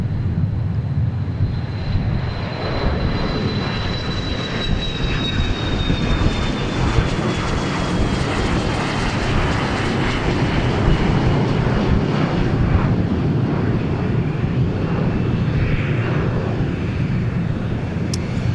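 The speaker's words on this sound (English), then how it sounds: "This is a Challenger 300 from FlexJet." A FlexJet Challenger 300 business jet roars past close by, a dense engine rush with a sliding high whine that drifts downward early on, steady and loud without talk.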